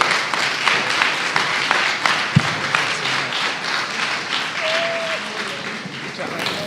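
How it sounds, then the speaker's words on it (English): Steady applause from a summit audience fills the room, a dense, continuous wash of clapping at moderate loudness with no break. "Let's give her a round of applause one more time."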